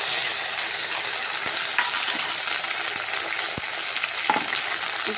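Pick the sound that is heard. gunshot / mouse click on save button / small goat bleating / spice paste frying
spice paste frying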